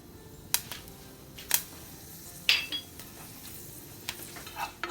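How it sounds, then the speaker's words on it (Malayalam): Fenugreek seeds splutter in hot oil in a pan while home-style sambar is being made. A few sharp, separate pops and crackles rise over a quiet background sizzle, close by, with no talking. "ഉലുവ പൊട്ടിയിട്ടുണ്ട് നല്ലൊരു മണം വരുന്നുണ്ട്"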